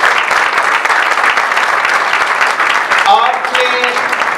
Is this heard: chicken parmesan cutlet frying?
no